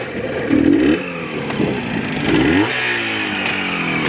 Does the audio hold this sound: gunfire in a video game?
no